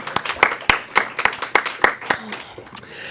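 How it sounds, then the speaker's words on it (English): Scattered audience applause at a morning gathering, a handful of distinct, sharp hand claps in an uneven rhythm, fairly close and moderately loud, with no voices over them. "Let's give a round of applause to Michelle."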